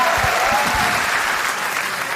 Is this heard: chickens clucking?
no